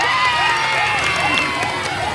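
A crowd at a national costume parade pageant cheers and shouts loudly and continuously, a bright, sustained roar with some clapping and tonal sound underneath.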